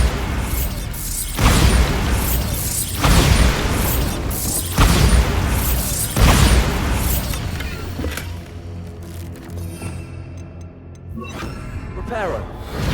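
Repeated heavy, booming blasts of the Bombarda spell in the video game Hogwarts Legacy, roughly four bursts a second or so apart, loud and close, then fading into quieter mechanical rumbling.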